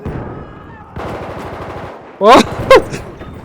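Loud close bursts of rapid gunfire from the video game Battlefield 1, two sharp volleys cutting over a rumbling battle background.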